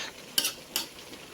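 Two quick scraping strokes of a utensil stirring inside a pot, close up, over a faint simmering background.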